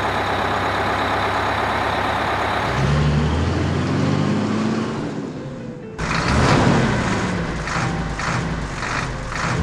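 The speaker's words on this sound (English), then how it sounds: "Truck." A truck engine rumbles close and heavy, shifting to a harsher, pulsing drone partway through, with no voices.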